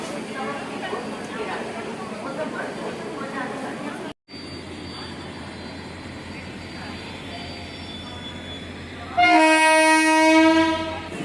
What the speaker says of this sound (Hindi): देखिए हमारा ट्रेन को डीकपल कर दिया गया है